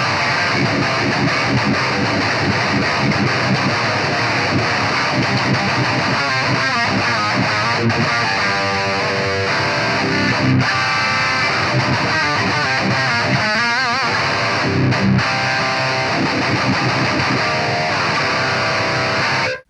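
Heavily distorted electric guitar riffing through the Archetype Gojira amp plugin with swapped cabinet impulse responses, a loud, dense, continuous chugging wall of tone with rhythmic palm-muted bursts and sustained chords, played alone.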